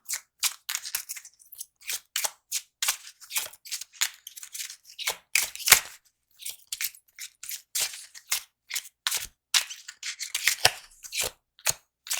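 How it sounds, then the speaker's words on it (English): A deck of playing cards for a Halloween fairytale board game is shuffled close by, in quick, crisp bursts of riffling and snapping with short pauses between them and no talking. "Give this a good shuffle."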